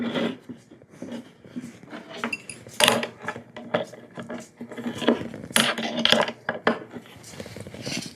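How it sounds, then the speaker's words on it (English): Hex nuts and quarter-inch flat washers tightened with a wrench while assembling an O'Brien neck angle jig, giving close, irregular metallic clicks, ratcheting and clinks of hardware on the jig, with brief pauses between bursts. "And then I'm going to tighten these with a wrench."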